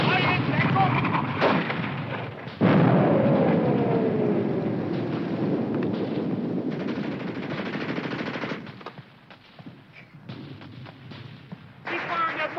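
Heavy mortar and gunfire in a 1951 World War II battle scene, a dense continuous barrage of loud, booming blasts and rapid shots that eases slightly near the end, with shouting voices mixed in.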